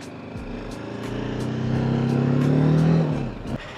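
A motor vehicle approaches and passes close by in busy traffic near a dam on the Munnar to Chathurangapara route, its engine swelling to a peak and then fading away.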